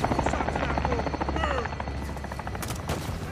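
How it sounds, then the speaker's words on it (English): Helicopter rotor drone in the Modern Warfare 2 campaign, a steady low thrum running throughout under game effects, with brief whistling tones and bursts of gunfire-like noise near the end. "Helicopter! Let's go!"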